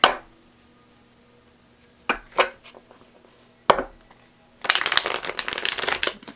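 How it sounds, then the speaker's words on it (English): Cards are riffled in a few brief crisp bursts, then a longer rapid flutter of snapping cards, close up in an otherwise quiet room. "Shuffling good."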